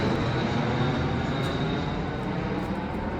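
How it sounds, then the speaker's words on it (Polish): A low-flying airplane passes overhead in a Poznań neighbourhood, a loud, steady broadband engine roar that fills the whole moment with no speech. "Tradycyjna poznańska przerwa na samolot."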